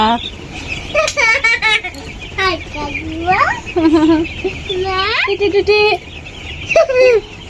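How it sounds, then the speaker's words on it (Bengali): Young broiler chicks cheep steadily in a close flock, dense overlapping high peeps and rising calls filling the whole stretch. "দেখো কি সুন্দর দেখা যাচ্ছে মুরগির বাচ্চাগুলো"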